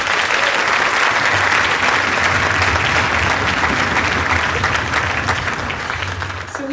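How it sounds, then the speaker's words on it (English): Audience at an elementary school senior spring concert applauding, dense sustained clapping from a large crowd that holds steady throughout and begins to thin slightly at the end. "Give them another round of applause"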